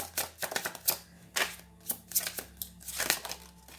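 A deck of tarot cards is shuffled by hand in quick, uneven bursts of papery slaps and flicks, close to the microphone.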